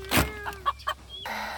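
Backyard hens and a rooster in a pen, a few separate clucks and short squawks close by, then a quieter stretch of low farmyard sound.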